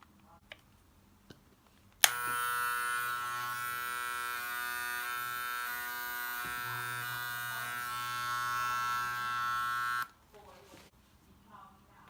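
An Andis T-Outliner hair trimmer, UK/EUR model with an adjusted blade and tension screw, buzzes steadily and loudly for about eight seconds close up, with quiet handling clicks before and after.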